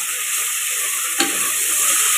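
Onions sauté in a pan for keerai kootu, with a steady hissing sizzle and a single clear stir scrape midway, close and alone with no talking.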